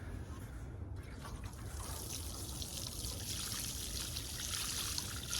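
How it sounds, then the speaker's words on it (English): Liquid fish fertilizer pours into a planting hole with a soft, steady trickle and splash that builds slightly, sounding faint and close. "I'm going to add some of my fish fertilizer"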